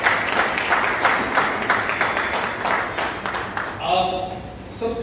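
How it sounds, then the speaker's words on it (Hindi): A crowd at a large Hindi poetry gathering in Malviya Nagar, Delhi, claps loudly for the poet Sunil Jogi. The dense applause lasts about four seconds before a voice starts speaking. "सुनील जोगी के लिए जोरदार तालियां"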